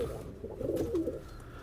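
A pigeon coos softly nearby, a low burbling call rising and settling over a quiet background.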